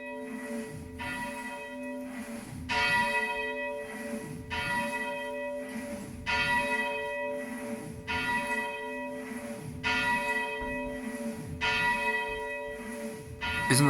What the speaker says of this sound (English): Old Len is going to be rung, so that we can hear that magnificent sound